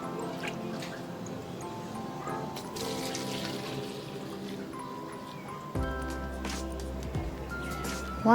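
Running water rinses soy milk making equipment at a sink, a steady flow with drips and splashes, continuous and fairly close, with low hum from a motor or tap underneath.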